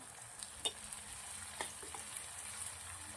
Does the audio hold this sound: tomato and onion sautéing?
yes